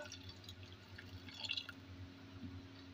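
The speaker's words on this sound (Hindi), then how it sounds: "और इसमें तकरीबन 1 लीटर हम पानी डाल देंगे।" Water being poured into a saucepan holding raw mango chunks, a faint trickling and dripping with small splashes, quiet and close, swelling briefly in the middle.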